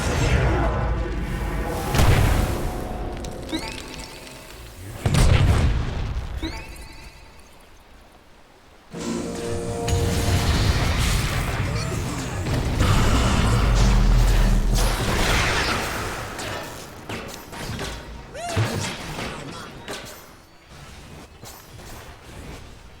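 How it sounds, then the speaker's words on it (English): Booming explosions and whooshing blasts from Techies mines in Dota 2 come in a dense, loud sequence of thuds and crashes, with voices faintly mixed in. "Explosion!"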